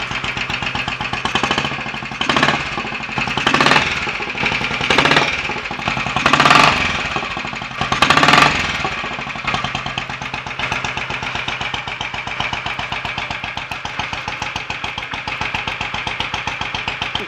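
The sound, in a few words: Royal Enfield 500 motorcycle engine starting and idling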